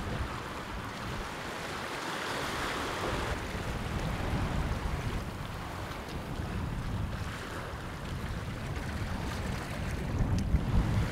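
Steady wind and surf wash over an island campsite, a continuous broadband roar with rolling wave swells and gusty microphone buffeting, no voices.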